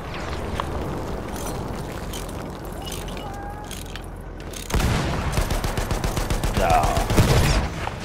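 Video game gunfire, quieter clatter and muffled thumps at first, then from the midpoint a loud rapid burst of evenly spaced shots rattling on for several seconds, close and dominant.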